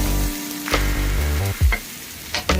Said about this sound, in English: So you see we have our onions and our tomato sauteing at this time